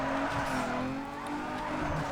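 A Nissan 350Z drifts in the racing game Need for Speed Underground 2, its engine roaring steadily under continuous loud tire squeal for the whole stretch, with no talking.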